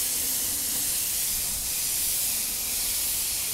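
Silver spray paint hisses steadily from a can onto a Benelli motorcycle fairing outdoors, a continuous close, even spray with no breaks or talk.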